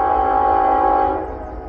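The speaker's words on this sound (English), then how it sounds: "Now these lead locomotives are regular locomotives." A loud, sustained train horn blares with rich harmonic tones, then fades as Norfolk Southern locomotives rumble past hauling a train with the dead CN 5288 steam locomotive in tow.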